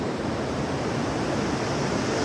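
Rainwater runs steadily down into a valley, a continuous broadband rushing wash like flowing water, fairly faint and even throughout with no voices.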